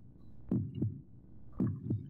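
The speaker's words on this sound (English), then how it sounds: "I can hear my heartbeat." Heartbeat in the video game Dreamcatcher: two pairs of soft, low thumps about a second apart, a steady lub-dub rhythm over a faint hum.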